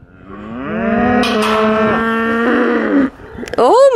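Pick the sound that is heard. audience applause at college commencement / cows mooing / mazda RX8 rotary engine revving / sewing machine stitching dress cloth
cows mooing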